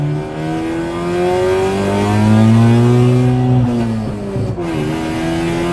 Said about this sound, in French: Avec le boucan que fait la voiture, on n'entend pas la musique.